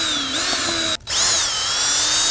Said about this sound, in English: if you're gonna use a drill, make sure it has a clutch on it so you don't strip anything out